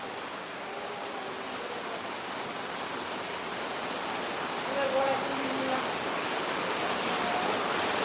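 Heavy rain pours down steadily in Kerala, a dense, even hiss that carries on through the whole stretch with a slight swell near the end, and no other sound stands out.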